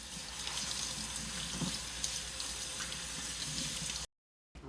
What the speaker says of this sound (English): So we're going to open our can. We're going to have to rinse it and drain it.